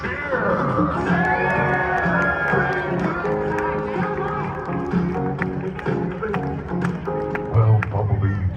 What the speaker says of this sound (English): Everyone, give him a cheer!